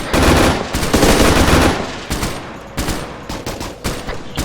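Rapid automatic gunfire from Arma 3 combat, loud bursts in the first half and then sparser shots and short volleys, close and dense with no talk.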